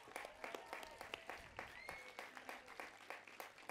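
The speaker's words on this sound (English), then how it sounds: "Give yourselves a round of applause." A crowd at a Year 12 school graduation assembly claps steadily throughout, a dense patter of many hands that sounds somewhat distant and soft.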